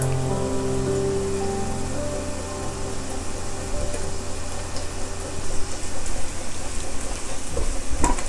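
Chopped garlic and onions frying in a pan for a chicken pot pie filling, with a loud, continuous close-up sizzle and some stirring scrapes that grow busier toward the end.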